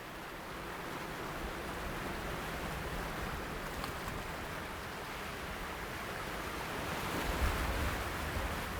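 Continuous rough wash of storm waves churning against a shore on Lake Ladoga, mixed with wind rumble, fairly quiet and distant, swelling slightly toward the end.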